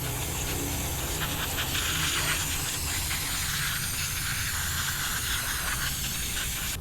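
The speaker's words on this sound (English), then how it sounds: "So I'm using Carburetor cleaner just to clean around it." Carburetor cleaner sprays in a steady, continuous hiss around the sprocket area of a Stihl MS 270C chainsaw that bogs down when hot, close and unbroken for the whole stretch with no talking.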